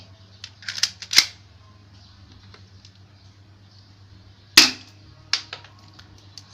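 An airsoft Colt 1911 pistol, model No.601, fired with 0.12 g BBs: sharp, close snaps, a pair near the start and another after a long pause, each with a short mechanical rattle, over a faint steady hum.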